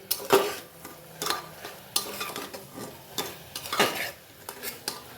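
Soybean curry is stirred in a pan over a raised gas flame, with repeated scraping and clinking of a spatula against metal over a faint sizzle, close and fairly quiet.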